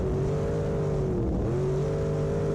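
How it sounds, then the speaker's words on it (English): A race car hot lapping around Monett Motor Speedway, its engine droning steadily at high revs with a brief dip and pitch change midway as it works through a turn, loud and continuous with no talk. "here I am hot lapping it at Monett"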